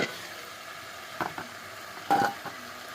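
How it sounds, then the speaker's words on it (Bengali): Spices drop into a hot frying pan, making a faint, low sizzle with a few short bursts of crackle and stirring as they hit the oil. "এখন দিয়ে দিচ্ছি সব ধরনের মশলাগুলো"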